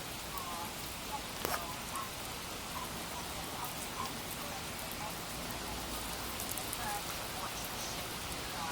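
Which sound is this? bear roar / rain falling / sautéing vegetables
rain falling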